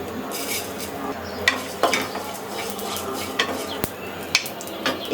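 Coriander seeds and cumin dry-roasting in a wok, stirred with a utensil that scrapes and clinks against the metal in irregular strokes over a soft background hiss.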